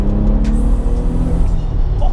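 Engine of an Audi B5 RS4 estate, a 490 bhp car, held at about 3,500 rpm, a loud, steady, deep droning roar that fills the moment and stays close throughout.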